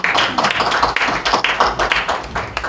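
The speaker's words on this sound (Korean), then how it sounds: "정성기 목사님 큰 박수로 격려해 주시면 감사하겠습니다." An audience at a church forum on how Christians should approach a general election applauds a pastor, close and loud, with steady rhythmic clapping that holds without pause for nearly three seconds.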